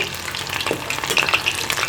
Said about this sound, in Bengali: এই ললিপপগুলোকে ভেজে নেব আমি দিয়ে দিয়েছি তেলের মধ্যে